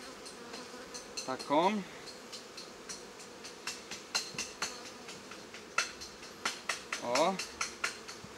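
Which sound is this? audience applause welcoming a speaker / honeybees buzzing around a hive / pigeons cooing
honeybees buzzing around a hive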